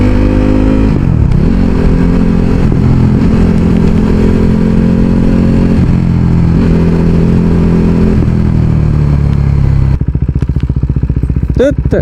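A high-cc motorcycle engine runs steadily at close range with a deep, even drone, its pitch dipping and rising as the rider shifts and accelerates, then the tone breaks into a rougher, pulsing rumble near the end.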